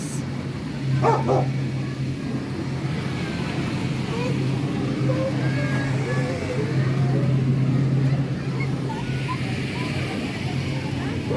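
Dogs bark and yip at an animal shelter in Germany amid a busy, crowded background with people talking nearby; the barking is scattered, mid-distance and partly mixed into the general noise.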